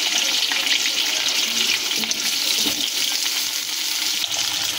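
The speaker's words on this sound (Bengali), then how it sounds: "এবার আমরা আলুর পিসগুলো দিয়ে দেব। আলুগুলোকে ভেজে নেব ভালো করে।" Potato pieces frying in hot oil in a pan, a continuous crisp sizzle with light bubbling and occasional soft spatters, steady and close, no talking.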